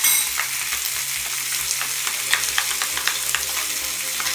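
Bananas with brown sugar fry in butter in a pan, giving a loud, close, continuous sizzle with small pops and crackles and no voices.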